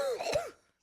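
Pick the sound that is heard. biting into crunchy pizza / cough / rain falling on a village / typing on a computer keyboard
cough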